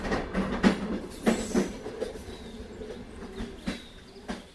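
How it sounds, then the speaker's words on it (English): A train in India, run with its doors left open, rolls into its final stop, giving a steady rumble with irregular clanks and knocks at moderate level and no talk. "A train in India, where they leave the doors open, reaches its final stop."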